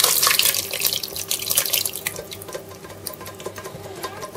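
Sauce poured over meatballs in a casserole dish for dum ka biryani, a loud wet splashing pour that gradually thins out into softer trickles and drips.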